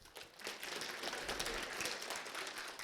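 An audience at a C++ Russia 2018 conference talk applauds, a faint, dense patter of many hands clapping steadily throughout, with no clear speech.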